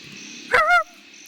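A single short, sharp dog bark, close by, breaks a quiet outdoor hum and ends abruptly.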